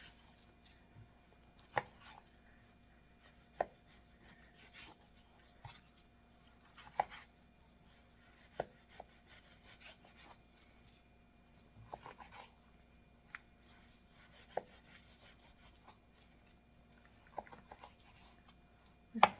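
Pork chopped with a knife on a cutting board: sharp, irregular chops spaced a second or two apart over quiet background, with faint dog whimpers and barks in the distance.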